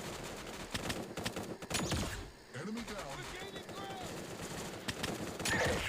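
Gunfire in the mobile shooter Free Fire, with sharp bursts and single shots plus game effects, while a player talks over the action throughout.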